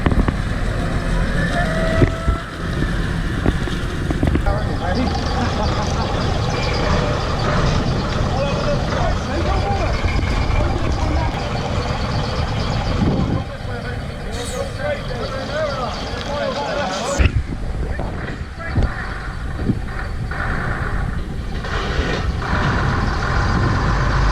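A decorated Bridgwater Carnival towing vehicle coupling up to its main trailer, with a truck engine running steadily, reversing beeps, hissing air brakes and occasional metallic clunks nearby.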